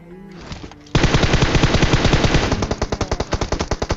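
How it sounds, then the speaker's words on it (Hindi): MK14 rifle in a mobile battle royale game firing a long, loud, rapid burst of shots, close and continuous, with the rhythm slightly loosening toward the end. "देखो उसको MK14 से कैसे भरते हैं"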